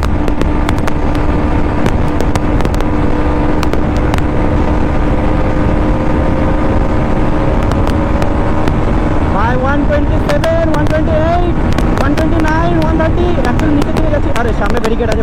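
A KTM Duke 200 superbike engine revving hard at racing speed on an open road, a loud continuous drone with rising pitch sweeps toward the end as it accelerates, with heavy wind rush over it.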